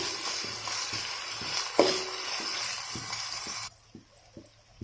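Onions fry in a pan with a close, dense sizzle under regular scraping stirs. The frying noise drops away abruptly near the end, leaving quieter rhythmic stirring.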